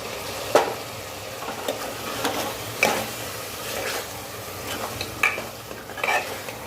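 Beef kidney masala being stirred and fried in a pan, with steady sizzling broken by repeated scrapes and clinks of a spoon against the pot, close and fairly loud with no voices.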